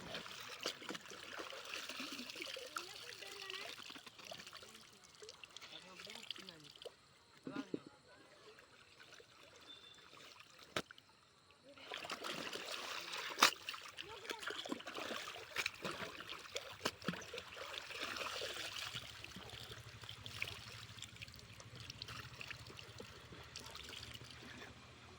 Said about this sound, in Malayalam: ഈ പുഴയിൽ നിന്ന് തുണികൾ അലക്കണത് കാണുന്നത് നമ്മൾ ചില കൂട്ടുകാർക്കൊക്കെ ഭയങ്കര ഇഷ്ടമാണ്